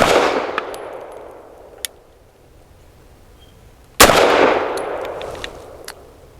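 Two sharp reports from an FB Radom Vis 100 M1 pistol, spaced about four seconds apart, each with a loud crack and a long fading echo tail, with no talking in between.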